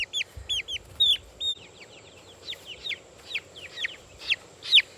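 Plymouth Blue Rock and ISA Brown hens give repeated clucks and chirpy calls, loud and close, in irregular bursts over a low background hum with no talking.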